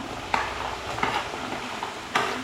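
Small onions sautéing in a pan for a Kerala-style prawn roast with coconut pieces, a steady close sizzle broken by a few sharp stirring scrapes of a spoon against the pan.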